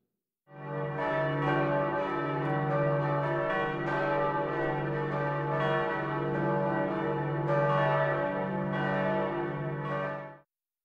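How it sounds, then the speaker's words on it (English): Church bells in Copenhagen ring continuously for a royal baptism in overlapping peals, rich and sustained, with no voices, for about ten seconds. "all the church bells in Copenhagen will ring in honor for the Crown Prince"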